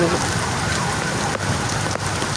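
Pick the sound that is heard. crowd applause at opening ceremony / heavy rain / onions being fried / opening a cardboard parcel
heavy rain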